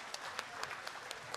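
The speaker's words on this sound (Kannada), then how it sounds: "ಬರಲಿ ಜೋರಾದ ಚಪ್ಪಾಳೆ." A crowd at a Presidency Public School annual day celebration applauds, the brief, quiet clapping carrying soft rhythmic peaks throughout.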